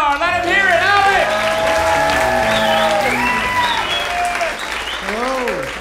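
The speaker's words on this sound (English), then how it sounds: "How about a big round of applause for Alex Alander?" A comedy club audience greets a comedian with loud, dense applause mixed with cheering, whoops and shouts, holding strong before tapering slightly toward the end.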